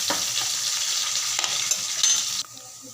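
Onions and green chillies frying in a pan for fenugreek-leaf palya, a soft steady sizzle with a few stirring scrapes that cuts off sharply near the end.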